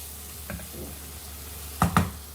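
Spices and tomato cook in a pan with a faint low sizzle, broken by a soft stir around the half-second mark and two louder close clanks of a utensil near the end.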